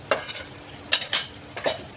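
Gravy cooking in a kadhai is stirred with a utensil, sharp scraping strokes against the pan in irregular bursts, over a low background of quiet simmering.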